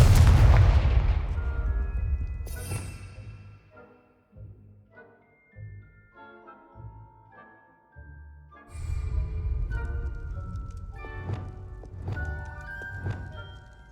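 Confringo fire spells burst repeatedly in Hogwarts Legacy gameplay, loud booming blasts near the start, then a quieter stretch of softer thuds and clatter before another run of heavy impacts, with in-game sounds throughout.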